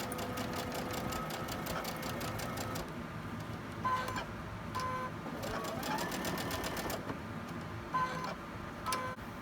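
Quilt block pieces being sewn on a sewing machine, bursts of rapid rhythmic needle ticking that stop and restart several times, fairly quiet and close, with brief pauses between runs.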